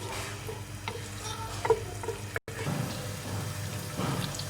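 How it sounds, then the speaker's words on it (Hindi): Onions frying in a pan for chicken pulao crackle in a soft, steady sizzle, with a few light clinks of stirring and a momentary dropout partway through. "अब इसको कलर आने तक आपने अच्छी तरह फ्राई करना है प्याज को।"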